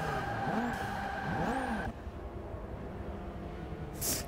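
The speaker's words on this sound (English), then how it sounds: "He slams on the brakes." A race car in Forza Motorsport 6 screams at high revs, with the engine pitch dropping and rising as it brakes hard and skids, then the engine drone lowers and a short tire squeal follows.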